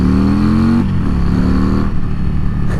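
A Harley-Davidson CVO Road Glide ST engine revs loud and close, a steady throaty drone with a rising pitch that drops back and settles into a strong idle rumble.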